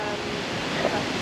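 A river flows near the volcanic hot springs at La Fortuna, Costa Rica, with a steady, loud broadband rush of water that is close by and continuous.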